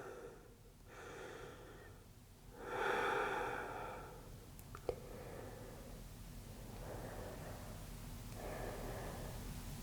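Slow, deep breaths during a power yoga practice, each long inhale and exhale a soft, close airy rush separated by quiet pauses, faint and unhurried.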